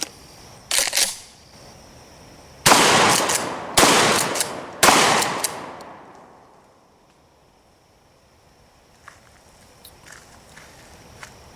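A 12-gauge shotgun with a weapon-mounted light fires three Federal number 8 game loads, three loud sharp blasts about a second apart, each ringing into a fading echo, then quiet handling noises.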